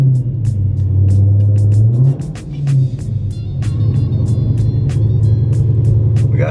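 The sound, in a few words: Dodge Hellcat engine starting and running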